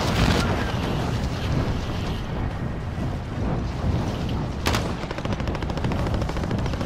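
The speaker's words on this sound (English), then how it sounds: "Are they shooting at me?" Gunfire in Call of Duty Warzone Plunder mode, a dense, continuous clatter of shots mixed with wind and engine noise, loud and unbroken, with one sharper burst near the end.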